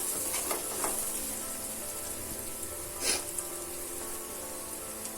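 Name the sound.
sautéing bread masala with spices in a pan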